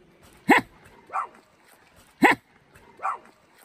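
Dog barks four times at an even pace, alternating a sharp loud bark with a softer, shorter one, close by and with nothing else sounding.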